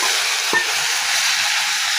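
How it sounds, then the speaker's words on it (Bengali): Boiled leafy greens fry in hot oil in a pan, giving a steady, loud sizzling hiss broken by a single brief clack of a stirring utensil, with no voices. "আর এগুলো দিয়ে কিন্তু আমি নেড়ে নেব।"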